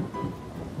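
Thunderstorm with a steady wash of heavy rain and a low continuous rumble of thunder, filling the whole short stretch at moderate loudness with no voices.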